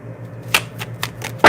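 A tarot deck being shuffled for a reading: several crisp, close card snaps and riffles in quick irregular succession, the last one the loudest, with no voices.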